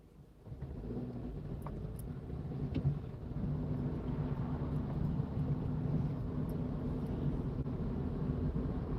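Gridlocked car traffic on a damp English road makes a steady low rumble of engines and tyres, heard from inside a vehicle, with a few faint knocks and no talking.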